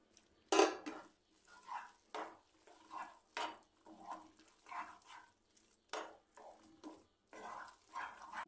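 Cut ripe mango pieces go into sugar syrup in a pan for mango sooji kesari. A utensil taps and scrapes against the metal in a series of short, quiet clinks with pauses between them.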